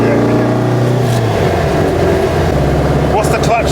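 A Porsche 356 Outlaw replica engine holds around 3,000 revs as the throttle opens, a steady droning growl that shifts pitch midway, heard from inside the car.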